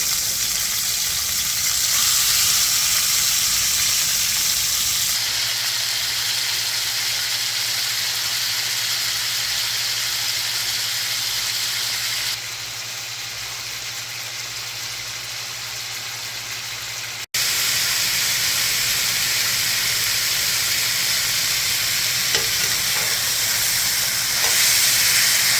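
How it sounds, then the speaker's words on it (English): Marinated pork with garlic, soy and spices sizzles loudly and steadily in a hot pan for pork fried rice, a dense continuous hiss and crackle close up that dips briefly midway before surging back. "And we start putting our pork in here. Listen to that sizzle."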